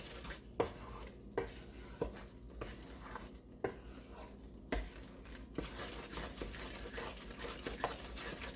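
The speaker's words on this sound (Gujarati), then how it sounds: "આ રીતે હલાવતા જ રહીશું" A spoon steadily stirs and scrapes wheat flour as it roasts in a pan for sukhdi. The strokes repeat in a regular rhythm over a faint sizzle, close by and with no talking.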